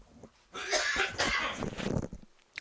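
A person coughs close to the microphone in a hoarse burst lasting a couple of seconds, with softer breathy coughs trailing off before quiet returns.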